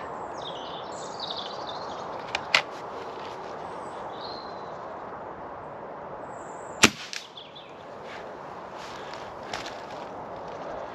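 A BSA Supersport air rifle fitted with its standard factory muzzle brake fires outdoors, giving a couple of sharp, loud cracks spaced several seconds apart, with birds chirping faintly in the background.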